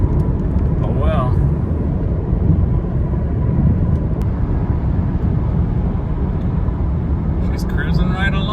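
A car cruises along the road, heard from inside as a steady low rumble of engine and road noise that stays even throughout, with a few faint higher squeaks and rattles at the start and end.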